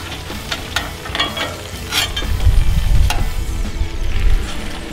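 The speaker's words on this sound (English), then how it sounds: "So as our butter melts down, so will the cream cheese. I'm just gonna kinda mix up a little bit with my 2 spatulas" Melting butter and cream cheese are worked together in a pan with two spatulas for keto gravy, giving a steady close scraping and soft sizzle with a few sharper knocks of utensils on the pan, no voices.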